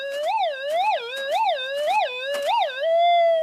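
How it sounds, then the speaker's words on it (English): A Minelab SDC gold detector sweeps over a buried target, giving a loud warbling tone that rises and falls in regular swells, about five in quick succession, then settles into a steady held tone. "I'm just going to have a look at the sound that the SDC makes on this target."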